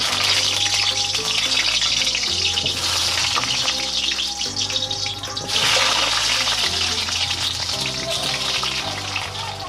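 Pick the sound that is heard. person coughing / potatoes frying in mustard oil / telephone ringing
potatoes frying in mustard oil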